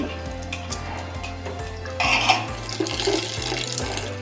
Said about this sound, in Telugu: ఇట్లా వాటర్లో వేసుకొని ఇలా తడిపి పెట్టుకోవాలండి